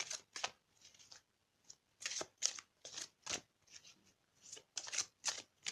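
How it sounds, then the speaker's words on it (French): Tarot cards shuffled and drawn during a love reading for Capricorn, heard as a run of quick, crisp riffling bursts with short pauses between, close and fairly quiet, with no voices. "on va prendre une carte de l'amour universel pour compléter un petit peu le tirage"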